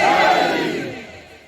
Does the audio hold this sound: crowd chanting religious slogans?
yes